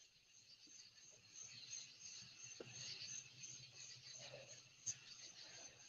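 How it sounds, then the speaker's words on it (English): A dense, steady chorus of crickets chirps at night, a continuous high shimmer of overlapping trills, faint and fairly distant, with a single brief knock partway through. "The crickets are so loud and they're all chirpy, chirping, chirpy, chirping."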